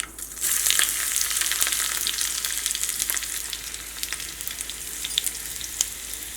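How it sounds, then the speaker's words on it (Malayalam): Mustard seeds and onions fry in hot oil in a pan, a loud, steady sizzle dotted with sharp crackling pops throughout, with no voices. "ഇതിലേക്ക് ആവശ്യത്തിന് ഓയിൽ ഒഴിക്കുക. ഫസ്റ്റ് കടുക് പൊട്ടിക്കുക"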